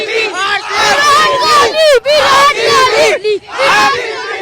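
A large crowd celebrates RCB's IPL title win over GT with loud, rhythmic chanting and cheering in waves, broken by brief pauses.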